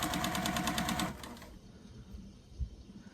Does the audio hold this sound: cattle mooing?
no